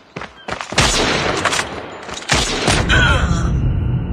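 Rapid gunfire in Call of Duty Mobile, loud close bursts of automatic shots in quick succession, followed by a continuous rumbling barrage and a faint whine.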